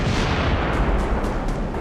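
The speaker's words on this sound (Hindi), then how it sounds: "इजराइल के बंकर बस्टर बम जमीन के अंदर इतना जोरदार विस्फोट करते हैं" A bunker buster bomb strike in Gaza is heard as a dense, continuous roar of blasts and rumbling booms, loud and close, with sharp bursts recurring at short intervals throughout.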